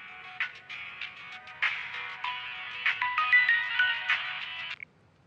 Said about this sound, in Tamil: ஏய் மாப்பிள ஃபோன் அடிக்குது பாரு.